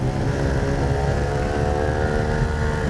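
Loud, continuous roar of a 1995 Ducati 916 engine at high revs, heard on board while racing at the Isle of Man TT, steady and close with heavy wind buffeting.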